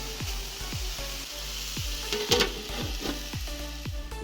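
Banana flower fries Jaffna style in a covered pan, giving a soft, steady sizzle with a regular pattern of small ticks and pops, faint and muffled under the lid.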